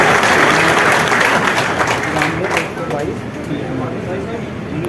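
A large crowd at a political gathering in Lalitpur, Uttar Pradesh, applauds a state minister with loud, dense clapping that starts at full strength and then tapers slightly toward the end.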